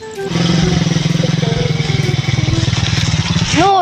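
A motorcycle engine runs close by with a loud, steady rhythmic thrum, and voices are heard briefly over it.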